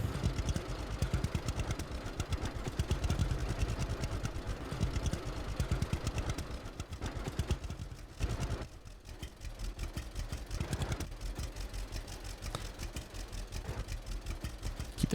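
A tractor engine in the Farmers Dynasty video game runs steadily with a low, continuous rumble and clattery texture, dipping briefly midway before resuming at an even level, with no talk over it.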